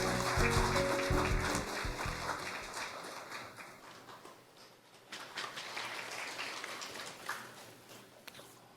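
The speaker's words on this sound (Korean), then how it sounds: "힘찬 박수로 모시겠습니다." Audience applause at a university president's inauguration ceremony in Daegu, South Korea, a loud burst of clapping from a large crowd that tapers off and then swells again into a second round.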